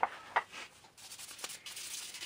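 Quiet rhythmic rubbing and scraping strokes, close by, a few sharper taps at the start, then a steady grainy sound of sanding a wooden knife handle, with no voices.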